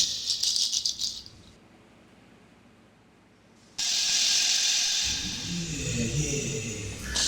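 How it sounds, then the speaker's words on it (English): Shakers played in a studio recording give bright, hissing rattle bursts, a short shaken pattern, a pause of near silence, then a sustained louder rattling with soft low percussion beneath. "So these are some shakers back in 2008 that we had."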